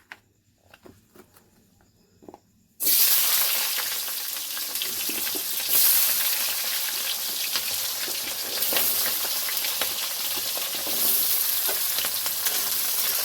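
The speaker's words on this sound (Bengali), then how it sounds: "পেঁয়াজগুলো ভেজে নেব।" Onions hit hot oil in a pan for a chili chicken dish, bursting into a loud, steady sizzle that continues unbroken after a few quiet clinks.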